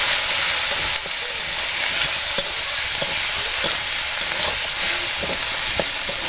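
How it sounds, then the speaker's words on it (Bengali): A spice paste of bay leaves and ground masala with a splash of water sizzling in a hot pan, a dense continuous hiss broken by light taps and scrapes of stirring. "এই মশলাটা ভাজা হয়ে যাবে।"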